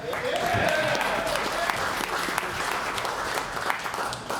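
A live audience applauds and cheers at a classic vinyl listening event, steady dense clapping close by with a few whoops over it.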